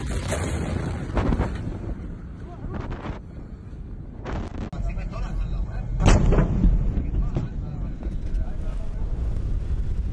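Repeated deep, booming blasts from the Beirut port explosion in Lebanon roll out at intervals, rumbling and heavy with wind-buffeted noise, one especially strong explosion near the end.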